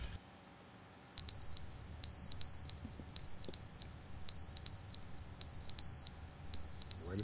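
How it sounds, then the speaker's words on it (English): An electronic alarm in The Stanley Parable game beeps in shrill, repeated pairs of short tones separated by brief pauses, loud and alone against a faint background hum. "What's the beeping noise? Is this the fire alarm?"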